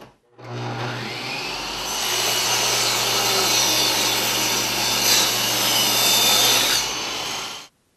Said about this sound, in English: I'm going to go and rip a bunch of strips off this.